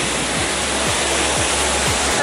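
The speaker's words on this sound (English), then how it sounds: "So we're here at the Waterfalls." Waterfall in Jämtland, Sweden: a steady, full roar of rushing, falling water close by, continuous and broadband, with faint low thumps recurring in the background.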